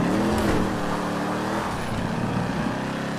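A car engine in GTA 5 roleplay hums at a steady, fairly loud level with a slight rise in pitch, as if accelerating. It is continuous and close, with no voices over it.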